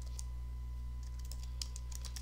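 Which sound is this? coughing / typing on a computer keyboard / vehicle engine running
typing on a computer keyboard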